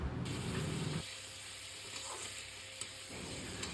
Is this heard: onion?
yes